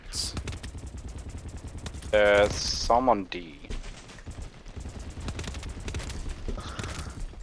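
Scattered bursts of rapid gunfire in the video game BattleBit crackle in the background, with someone speaking briefly over the noisy action.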